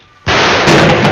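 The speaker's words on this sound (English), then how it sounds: "Ooh, that's a decent explosion." Dynamite thrown like a grenade explodes in the 1959 western film Rio Bravo, a sudden loud blast that bursts in and sustains as a heavy roaring rumble, dense and close.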